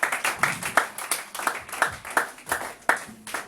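A church congregation applauds Brother Guillaume, the church cameraman, with brisk, steady rhythmic clapping in quick repeated bursts, close and fairly loud, with no talk over it.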